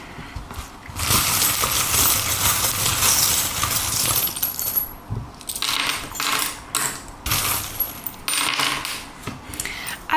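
Metal charms cast and jingling together for a divination reading, a dense bright clatter of small pieces tumbling and settling, in several bursts with short pauses between, close and loud.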